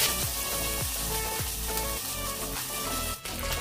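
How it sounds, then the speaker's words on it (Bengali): Hing and ginger paste being mixed and fried in a pan for green peas kachori filling, a continuous close sizzle with a few scraping stirs and a steady background hum. "এবার সবগুলো একসাথে ভালোভাবে মেশাতে হবে।"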